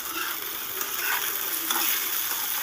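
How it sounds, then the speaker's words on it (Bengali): Eggplant pieces fry in hot oil as part of a Bengali mixed-vegetable fish-head chorchori, a steady close sizzle with light stirring scrapes, no voices. "এবার এই তেলের মধ্যে আমি দিয়ে দিচ্ছি বেগুনগুলো বেগুনগুলোকেও একটু লাল করে ভেজে নেব"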